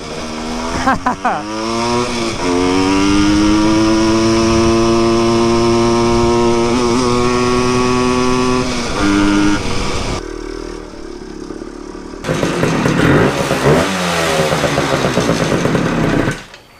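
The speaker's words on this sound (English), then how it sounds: "I don't know where the balance point is yet on this bike, so I don't want to wheelie too big." A Suzuki TS185 motorcycle engine revs hard and loud while the bike is lifted into a wheelie, pitch climbing and holding for several seconds, then cutting out briefly before a rough, clattering rev returns, with occasional voice.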